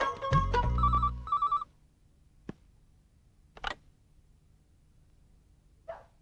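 A telephone rings loudly for about a second and a half at the start. Silence follows, broken only by a few faint clicks and soft rustles.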